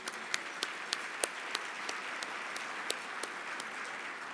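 An audience at a charity luncheon applauds to welcome a guest, steady clapping from many hands with a few sharper claps standing out, moderately distant and fairly quiet.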